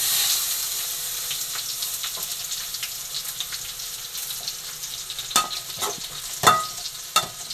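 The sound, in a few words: stirring bitter gourd frying in pan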